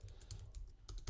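Quick, light keystrokes tapped on a computer keyboard, a short run of soft clicks close by in a quiet room.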